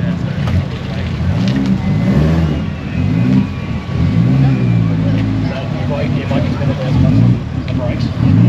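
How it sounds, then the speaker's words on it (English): A tough ute's engine rumbling as it pulls up at a cars and coffee show, a loud deep throbbing idle with rhythmic revving pulses, close by and continuous, with people talking over it. "We got this ute pulling up and she is a toughie"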